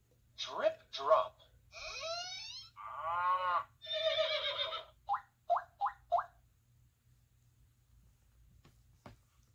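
A synthetic-sounding horse whinny from an electronic children's reader toy rises and wobbles, followed by a few short clipped squeaks, then quiet; close and fairly loud against a faint electronic hum.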